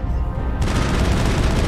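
Turret gunfire in the Mass Effect video game, a dense rapid burst of shots that starts abruptly and keeps going loud and continuous to the end.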